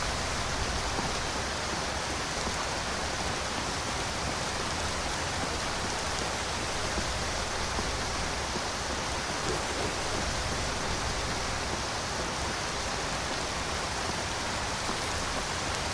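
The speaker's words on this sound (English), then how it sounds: "I'll tell you something, Lydia, I am sick and tired of walking in this rain" Rain falling in Skyrim VR, a steady, dense hiss of downpour that stays constant throughout with no voices.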